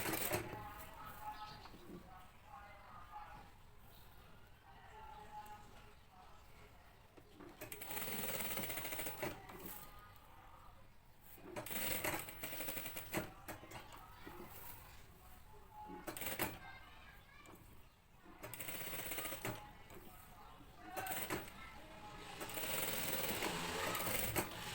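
A sewing machine stitches the neckline of a Pakistani-style Eid dress. It runs in repeated rapid mechanical bursts separated by short pauses, close and clear throughout.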